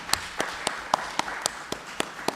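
Applause at a public town council meeting: a handful of separate, evenly spaced sharp claps ring out over a quiet room, fairly close and moderately loud, with no speech.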